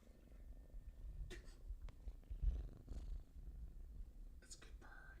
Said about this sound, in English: I want you to hear her purring.